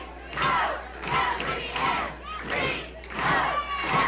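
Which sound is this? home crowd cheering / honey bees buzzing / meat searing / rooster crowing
home crowd cheering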